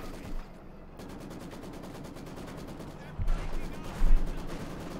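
Rapid, steady Maxim machine gun fire from Company of Heroes 2 runs as an even stream of shots for about three seconds, with heavier thumps near the end and voices talking over it.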